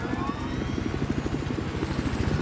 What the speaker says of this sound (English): so I had to spray with the chopper.